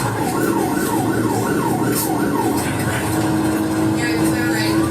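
An ambulance siren wails in a steady rising-and-falling cycle while a police escort works to clear intersections ahead of it, with a constant rumble of vehicle and road noise throughout.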